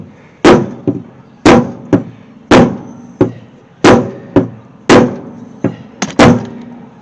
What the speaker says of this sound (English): rubber hammer here.